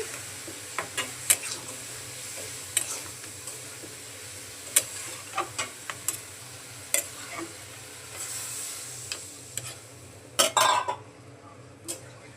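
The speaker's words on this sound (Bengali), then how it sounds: "এখন ডালের সাথে লাউগুলোকে একটু মিশিয়ে দিচ্ছি" Lentils and bottle gourd being stirred together in a pot produce a series of sharp spoon clicks and scrapes against the metal rim over a low, quiet simmering hiss, close and intermittent, with a brief louder clatter near the end.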